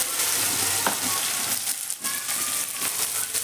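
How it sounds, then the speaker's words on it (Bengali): Pumpkin, potato and long beans dropped into hot oil already fried with asafoetida and Bengali five-spice, giving a dense, loud, continuous sizzle with a few crackling pops. "হিং আর 5 ফোড়ন তেলে ভেজে নেওয়ার পর আমি তেলের মধ্যে একে একে সমস্ত সবজি দিয়ে দিচ্ছি"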